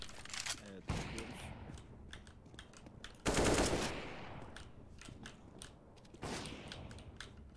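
Counter-Strike gunfire with a loud burst of shots and mechanical clatter, recurring in short bursts over a busy game background, and some voices talk in places.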